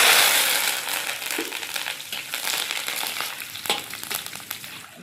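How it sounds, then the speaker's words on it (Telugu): Curry leaves fry in hot oil for a poha mixture, a loud crackling sizzle that surges at the start and then settles into a steady busy spatter with occasional pops and stirring scrapes, close and without talk. "కళ్యామాకు గోలించుకోవాలి"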